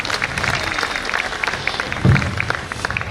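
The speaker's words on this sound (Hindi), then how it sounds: "तालियों से स्वागत करें बेटी का।" Crowd at a Holi celebration event applauds a young woman, a moderate patter of clapping with a brief louder burst partway through.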